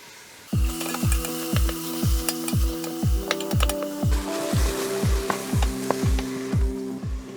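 Ground beef browns in olive oil in an Instant Pot on sauté mode, a continuous soft hiss and crackle that sits beneath a repeating, rhythmic background music track.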